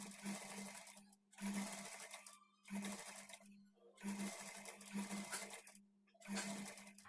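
Sewing machine stitching piping onto a curved blouse edge, running in several short bursts separated by brief pauses, steady whirring close by with no talk.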